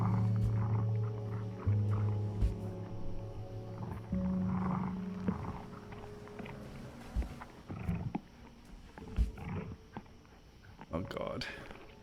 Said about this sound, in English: And some sort of growling.